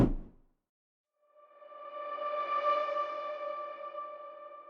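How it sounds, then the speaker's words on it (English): A reverse synth sound swells up from silence, rising gradually into a bright, sustained harmonic tone that opens a progressive house track, clean and alone after a short opening blip. "to start the song, I have used a reverse synth that sounds something like this"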